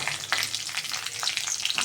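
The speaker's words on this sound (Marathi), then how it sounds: "थोडंसं जिरं घालणार आहे" Cumin seeds fry in a hot oil tempering, with cardamom pieces, for a restaurant-style egg curry: a close, soft, continuous sizzle with fine crackles and light stirring.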